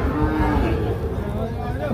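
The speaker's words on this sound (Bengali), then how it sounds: "এই পাশে দেখছিলাম একটা বেশ সুন্দর সাইজের শাহিওয়াল ষাঁড় বাছুর।" A Sahiwal bull calf lows with a deep, sustained moo at a busy cattle market, heard close amid a low background murmur.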